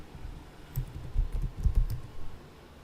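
A computer keyboard clatters as a Linux terminal command is typed, a quick burst of close, soft key clicks over roughly two seconds, alone without voices.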